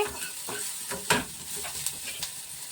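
Chopped ginger and onion stirred in a frying pan with hot oil, giving soft sizzling and a few scraping spoon strokes in an irregular rhythm, close up with no talking.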